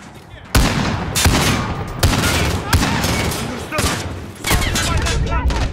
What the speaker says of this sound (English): Where am I getting shot from, bro?